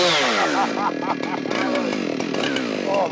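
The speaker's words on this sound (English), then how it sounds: "Right, let's fire her up and put her through this beautiful bit of oak." A Husqvarna 592XP or Stihl MS 661 chainsaw revs loud and close as it bites into a large oak butt log, its whining engine pitch rising and falling through the cut while a voice speaks over it.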